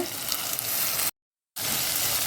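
Steady frying sizzle as chopped tomatoes fry with onions in a pan for a crab curry, loud and continuous, broken by a brief silent gap before the crackle resumes.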